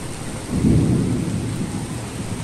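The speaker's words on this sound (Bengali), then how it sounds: "আজকে এখানে বেশ বৃষ্টি পড়ছে" Heavy rain pours steadily while a deep roll of thunder swells near the start and slowly fades back into the constant hiss of the downpour.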